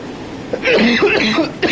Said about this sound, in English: you had to hear me coughing all the way down the microphone